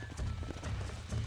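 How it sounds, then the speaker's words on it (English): Horse in the video game Red Dead Redemption, hooves clip-clopping in a steady rhythm with a whinny, fairly faint and close. "Mount my horse, it says,"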